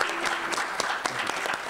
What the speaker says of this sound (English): Let's give our round of panelists just a final round of applause.